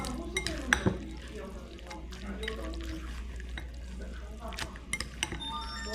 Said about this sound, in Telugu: సో ఈ ఫుడ్ని మొత్తం కూడా మనం ఇట్లా కలపాలి పచ్చిగుడ్డుతో సహా